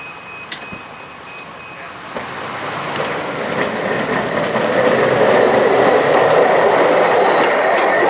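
Railcars roll along track escorted by a high rail truck near Remsen toward Tupper Lake, New York, a rumbling, clattering passage that swells from moderate to loud as the rail equipment approaches and stays close.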